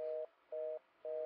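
A telephone in the X-Files video game Resist or Serve gives three evenly spaced steady tones, faint and clean, with short silent gaps between them.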